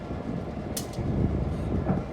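A 1950 General Motors EMD locomotive, Nashville Chattanooga and St. Louis 710, rolling slowly onto a turntable, a low continuous rumble with a brief metallic squeal partway through.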